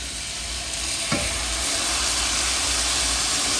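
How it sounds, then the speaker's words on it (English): Loud, steady sizzling hiss of vegan beef crumbles frying in a pan, with a brief scrape of stirring partway through. "It's going to sizzle again."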